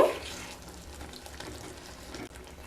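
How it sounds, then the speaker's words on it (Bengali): A little water is poured into a pan of vegetable curry, starting with a brief burst of splashing and hiss that settles into a quieter steady simmering wash. "সামান্য জল দিয়ে দেব।"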